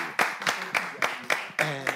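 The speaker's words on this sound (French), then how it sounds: "Avec des applaudissements dans le studio, ça gêne pas" In a television studio, a small audience gives sharp, rhythmic unison claps, about seven evenly spaced beats as a guest arrives, with a voice briefly overlapping near the end.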